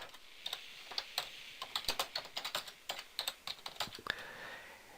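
Clicks from a computer keyboard while text is entered into a QuickBooks 2013 invoice, a quick run of light, close keystrokes in irregular clusters with soft background hiss.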